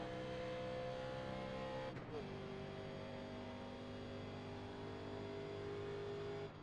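A NASCAR Legends stock car in the iRacing sim at Pocono, its engine droning steadily at full throttle, with a brief lift and shift in pitch near the start before the loud, constant roar resumes.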